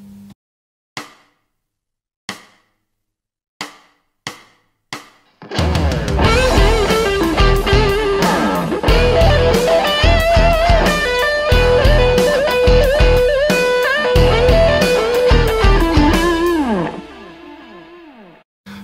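Distorted electric guitar plays a phrase at a slow tempo, with a few sparse count-in clicks first and then a sustained, loud, echoing line with bends.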